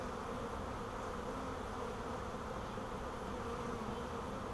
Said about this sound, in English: These bees are calm.